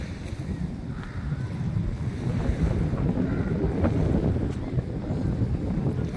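Wind buffets the microphone outdoors at sunrise near the sea, a steady low roaring rumble with gusty swells throughout, no clear speech.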